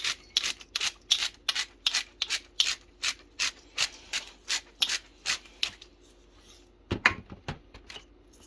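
A pepper grinder is twisted to grind pepper in a home kitchen, about fifteen steady, evenly spaced gritty crunches, close and fairly quiet, followed by a brief pause and a couple of handling clicks.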